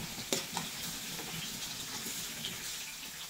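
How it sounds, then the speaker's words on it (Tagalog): Sweet potato and squash sauté in a hot pan with a soft, steady sizzle. There are occasional stirring scrapes, and no voices are heard. "So, medyo nagisa ko na yung kamote."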